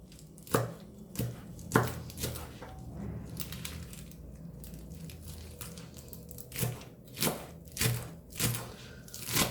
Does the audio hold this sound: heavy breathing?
no